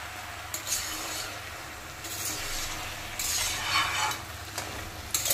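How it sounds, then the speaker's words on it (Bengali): Cabbage with fish head cooks over medium heat in a covered pan, stirred again and again with a utensil scraping and rubbing against the pan over a steady sizzle, close and continuous with louder bursts. "এভাবে বাঁধাকপির জলটা শুকিয়ে যাওয়া পর্যন্ত ঢেকে ঢেকে বারবার একটু নাড়তে হবে"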